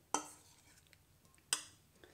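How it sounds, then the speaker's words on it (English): Pasta and sauce spooned into a serving bowl, two sharp clinks of a big spoon against the bowl about a second and a half apart, faint and close with quiet between. "We can just spoon this across into our serving bowl, making sure we get all that sauce as well."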